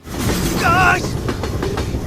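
A train in a film scene rolls along railway tracks as a steady rumble with rhythmic clacking, and a brief tonal squeal rises midway through before the sound settles back into the continuous rolling noise.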